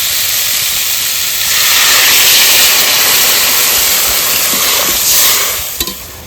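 Water hits a hot pan of sautéed potato and pumpkin, setting off a loud, rushing hiss of steam and sizzle that swells, holds, then fades near the end with a couple of light knocks.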